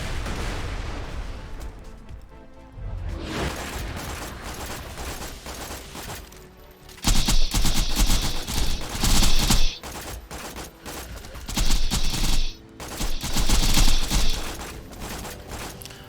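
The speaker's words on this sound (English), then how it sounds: "Now I've got the guided missiles here." Guided missiles launching in the Borderlands video game, a sustained volley of loud, dense explosive bursts with rapid pops and booms, swelling in several heavier waves over continuous gunfire.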